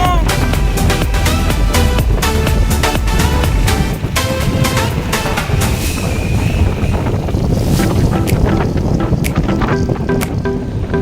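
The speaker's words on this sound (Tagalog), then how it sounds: "tumutunog yung hangin." Strong wind at Pantabangan Dam, Nueva Ecija, buffets the microphone in a loud continuous roar with gusty rumbling and a constant whooshing wash.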